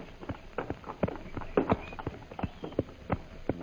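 Horses walk along, hooves clip-clopping in an uneven, steady rhythm at moderate distance, several hoofbeats overlapping with faint background noise.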